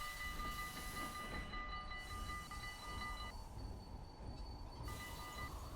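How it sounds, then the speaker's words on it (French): A train in the Roblox game Terminal Railways rolls past with a steady, loud mechanical rumble and sustained tonal whine, with no talking over it. "Je crois que j'ai entendu un autre train."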